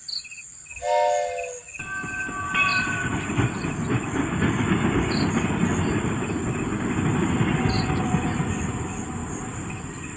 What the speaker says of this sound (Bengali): ট্রেনটা হুইসেল বাজিয়ে আস্তে সুস্তে চলে গেল।